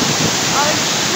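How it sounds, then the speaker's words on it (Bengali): A waterfall in rainy-season Shillong roars as a dense, unbroken wash of rushing water, loud and close throughout the short stretch. "ওয়াটারফল অসাধারণ"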